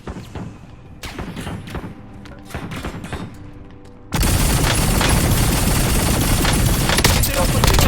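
Sustained automatic gunfire erupts in a Warzone battle royale match, a loud dense barrage of rapid shots filling the second half after quieter scattered shots and game sounds.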